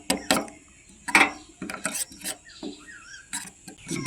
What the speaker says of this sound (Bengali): বেশ কিছুটা আধা বাটির মতো জল দিয়ে এটাকে গুলিয়ে নেব।